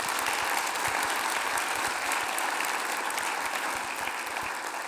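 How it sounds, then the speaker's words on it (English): A roomful of audience members applauds at a population health summit, dense steady clapping that holds evenly for several seconds and fades slightly toward the end, with no one speaking. "a round of applause for the team that made it all possible"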